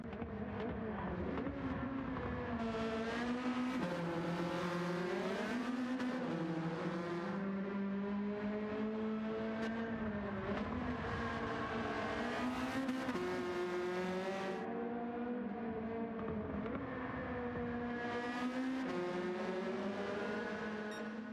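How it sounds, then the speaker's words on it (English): A high-revving Honda engine in Gran Turismo 7 screams and bounces repeatedly off its rev limiter, loud and sustained with stuttering pitch wobbles, no voices. "A Honda absolutely smashing itself off the rev limiter"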